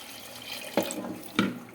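Water runs steadily from a tap into a pressure cooker with potatoes and salt nearby, with two brief splashy bursts as the stream shifts.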